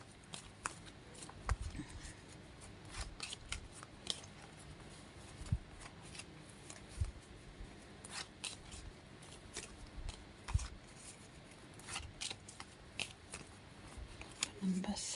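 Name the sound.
shuffling a deck of cards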